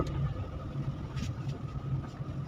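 A car engine hums steadily as the vehicle is driven at about 40 km/h, a low continuous drone with no voices over it.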